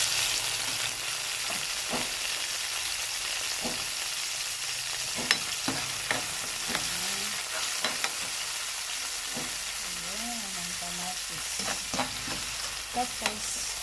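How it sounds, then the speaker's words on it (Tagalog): Onion frying in a pan at home, sizzling steadily with a constant hiss while a utensil scrapes and stirs it in scattered knocks and clatters, close by and with no talking. "Lutuin na natin ang sibuyas."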